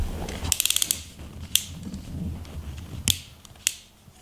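A PRIMERO electric screwdriver set to torque 5 drives a screw into soft hinoki wood, giving short bursts of rapid clicking and whirring with sharp ticks between quieter stretches, close and fairly loud.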